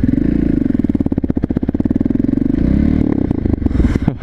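A Honda XR650 motorcycle engine accelerates hard with a loud, close, pulsing thump that rises in pitch, dips briefly, then climbs again.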